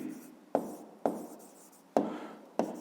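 Pen writing by hand on paper during a fifth-grade maths exercise. Four short, close scratchy strokes each start with a sharp tap and fade quickly, separated by quiet gaps.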